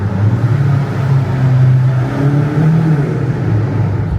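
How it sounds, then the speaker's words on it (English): A BMW XM SUV accelerates with a steady low engine drone and a faint rising turbo whir, heard from inside the cabin and with no talking. "Oh, we got some turbo noises."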